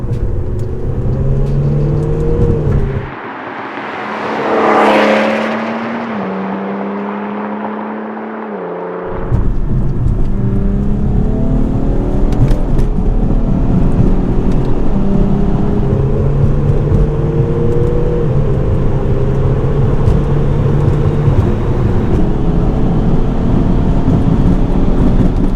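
An Audi A6 BiTDI quattro tuned to 550 hp and a 425 hp BMW 435d xDrive, both diesel, drag race: loud engines rev and climb through gear changes, a wind-rushing pass in the middle, then sustained hard acceleration.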